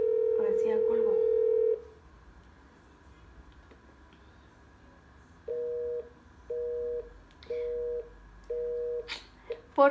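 Telephone busy signal on a call, a long tone followed by a pause and then a series of regular short beeps with gaps between them, clear and close, with brief voices near the end.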